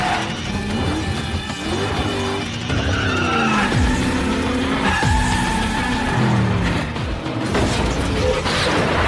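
Race cars in the film Death Race (2008) skid hard, giving loud, sustained tire squeals over roaring engines and clanking mechanical impacts in a dense, continuous action-movie soundtrack.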